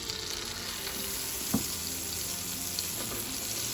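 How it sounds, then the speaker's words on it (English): Salted butter melts in a pan with a steady, moderate sizzle throughout, a couple of faint clinks of a utensil partway through, no voices. "In this pan I've got some really good salted butter and I'm melting that."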